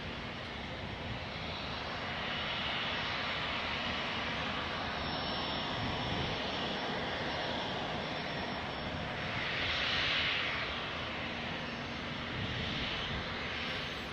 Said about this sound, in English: looks like they're going to give that Challenger the go-ahead between the spacing for the 737 Maxes.